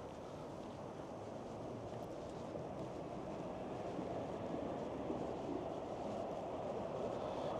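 A streetcar rumbles past on a city street along Dufferin Street in Toronto, a low, steady rolling drone heard at moderate distance with a faint breezy hiss and no talk.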